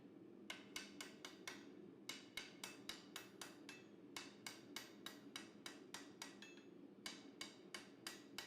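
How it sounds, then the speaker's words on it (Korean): Quick, light hammer taps on a knife bolster during forge welding, fluxed steel worked while making a tuna knife; bright metallic strikes come in fast evenly spaced bursts separated by short pauses, close and alone. "보시다시피 볼스터를 세게 치지 않고 빠르고 가볍게 두드려 용접 부위를 고정합니다."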